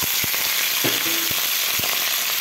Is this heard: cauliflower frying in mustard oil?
yes